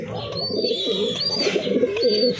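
A male pigeon coos steadily and close by, in loud throaty, repeated rolling calls with faint higher chirps over them and no voices.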